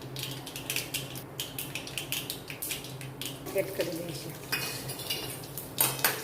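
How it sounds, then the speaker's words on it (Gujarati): Whole spices such as bay leaf, dried red chillies, cinnamon, star anise and cloves being stirred in a pan, with repeated metallic scrapes and clinks under soft talk. "અડધી મિનિટ આપણે મસાલાને સાતળી લઈશું"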